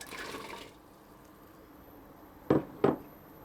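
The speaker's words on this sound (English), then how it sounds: "I'm going to put my carrots in" Carrots drop into a pot of pearl barley simmering on low heat, giving two short, soft splashing plops about a third of a second apart after a quiet stretch of faint bubbling.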